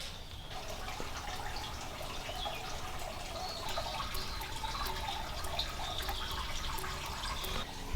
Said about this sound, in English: It's nice to listen to the water drain out the boat.